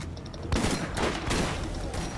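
A rapid burst of gunfire in the video game Borderlands, several sharp shots cracking in quick succession over a busy background.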